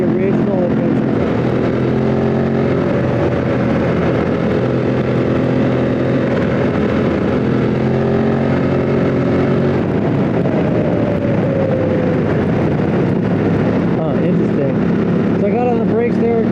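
An adventure motorcycle on Motoz Tractionator Adventure tires runs high-speed twisties, its engine droning steadily with pitch shifts through gear changes, mixed with wind buffeting on the microphone.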